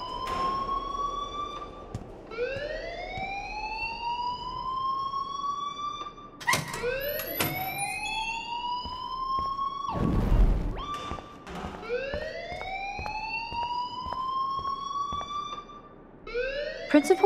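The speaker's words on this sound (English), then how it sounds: "please turn off that alarm since that's your job" A wailing alarm siren in the video game Life is Strange blares continuously, its pitch sweeping upward in repeated rising cycles, with a few thumps and clicks breaking through the loud steady wail.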